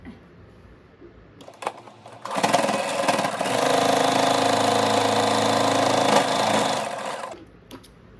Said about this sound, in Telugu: ఇప్పుడు మిడల్లో ఒక స్టిచ్ చేసుకోవాలి.